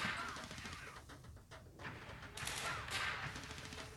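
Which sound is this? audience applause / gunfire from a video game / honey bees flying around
gunfire from a video game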